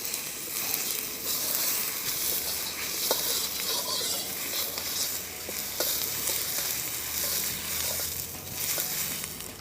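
A Chinese wok being seasoned on the stove sizzles and crackles steadily, with scraping and stirring strokes running through it. The sound is close and continuous, and no one talks.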